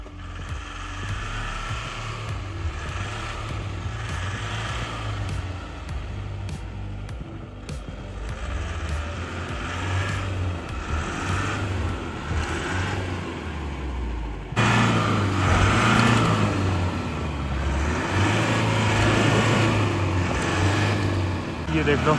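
Mahindra Bolero 4x4 camper engine labouring on black ice and heavy snow, a steady low drone that grows louder and rougher partway through, with people talking over it.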